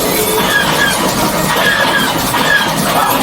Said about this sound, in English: There it is. After that train.